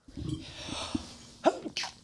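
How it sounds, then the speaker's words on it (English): A sharp, loud sneeze bursts out near the end, following a short stretch of quieter breathing and mouth sounds close to the microphone. "You sneezed"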